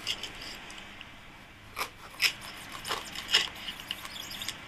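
Scissors snip a parallel cut through tape during waterproofing of a DJI Phantom drone, a few short crisp close cuts spaced over a quiet background.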